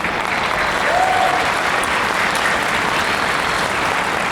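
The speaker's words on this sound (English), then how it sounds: "I'd like you to join me in applauding their efforts." An audience applauds at a community foundation event, a dense, steady burst of clapping from a large crowd that holds at a loud, even level throughout.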